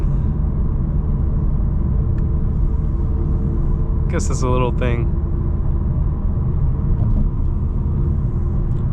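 A 2025 BMW M4 CS driving on a rainy road, with a steady low rumble of engine and road noise throughout and a brief voice speaking over it midway.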